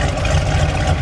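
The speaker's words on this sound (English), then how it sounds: "Let me get a little exhaust now. I want to hear it just rumble for a second." Idling rumble from the 440 Six Pack V8 of a red 1971 Dodge Charger R/T, a steady, loud low-pitched exhaust burble held evenly throughout with no talk.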